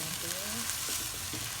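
Bean sprouts and shrimp sizzle in a hot pan while being stirred, a continuous close frying hiss with faint scraping movements, no voices.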